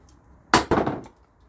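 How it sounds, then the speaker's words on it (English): Hammer driving through a can muffler fitted to a lawnmower, two close, sharp metallic strikes in quick succession, then quiet. "I'm going to put them on here and I'm going to hammer right through."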